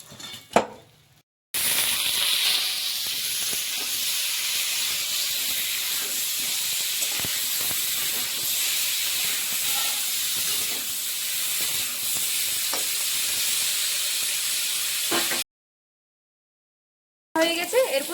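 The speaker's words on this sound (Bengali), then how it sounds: "এই তেলের মধ্যে আলু এবং ফুলকপিটা ভালোভাবে ভেজে নেব" Potatoes and cauliflower frying in hot oil in a pan, giving a steady, loud broadband hiss and sizzle that runs without a break for over ten seconds before cutting off, with a few faint knocks.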